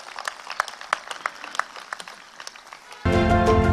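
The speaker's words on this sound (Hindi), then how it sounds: "एक बार मैं चाहूँगा जोरदार तालियां बजा दीजिए।" Audience at a public event breaks into applause: scattered individual claps come first, then a dense, loud wave of clapping takes over near the end.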